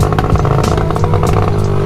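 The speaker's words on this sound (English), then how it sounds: "But it's backfiring like crazy though." Motorcycle engine running loud and close, its rough idle broken by rapid irregular popping and crackling backfires throughout.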